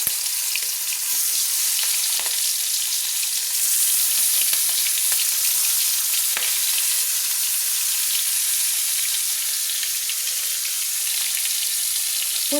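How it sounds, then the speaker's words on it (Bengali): Ten marinated prawns fry in oil in a kadai-style wok, giving a loud, continuous, dense sizzle with fine crackles that stays constant throughout, with no speech. "এইভাবে আমি 10টা চিংড়ি মাছ ভেজে নেওয়ার জন্য আমি কড়াইতে দিয়ে দিয়েছি।"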